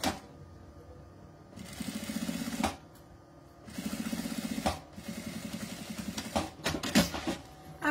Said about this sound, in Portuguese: Posicionou aqui, a gente costura.